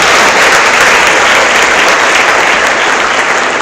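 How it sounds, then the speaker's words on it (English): A large audience claps loudly and steadily after a speech at a white coat ceremony for first-year MBBS students, a dense, continuous wash of applause. "One more, and a big hands of applause"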